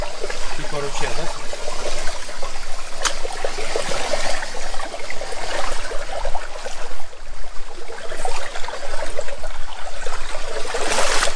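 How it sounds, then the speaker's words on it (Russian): Water trickling and babbling along a stream in a rocky river bed in Valencia, Spain, a continuous close bubbling flow with occasional splashes, and people talking faintly over it. "типа ручья, да?"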